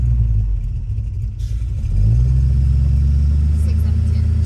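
A 1958 Plymouth barn-find car engine runs steadily during a ride, a loud low rumble that rises in level partway through as it pulls, with people talking over it.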